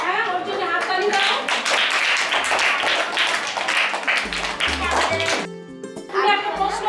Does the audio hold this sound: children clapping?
yes